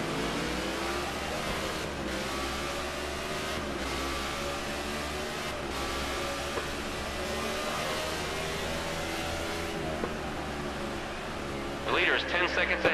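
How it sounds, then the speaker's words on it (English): Race cars in a racing video game at the Infineon circuit accelerate into a turn, their engines roaring in a continuous dense drone with a sharper, higher whine rising briefly near the end. "I love the sound of the cars coming into that last turn as I'm pulling out of it."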